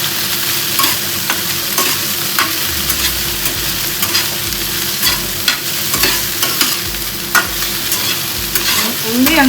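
Okra and small shallots fry and get stirred in a pan, a steady loud sizzle broken by frequent scraping stirs, close up and with no voices.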